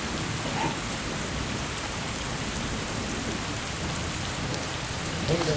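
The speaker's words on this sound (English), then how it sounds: "Lake Michigan whipped up by a storm that moved over us" Steady rain and storm wind sweep over a Lake Michigan beach as waves come ashore, a dense continuous hiss with no voices and a slightly louder gust near the end.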